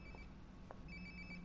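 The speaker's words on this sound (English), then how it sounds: "Sounds like my phone is definitely nearby." Phone ringing close by in the video game Life is Strange: Before the Storm: a fairly quiet, steady electronic ringtone repeating over low background noise, with no talking.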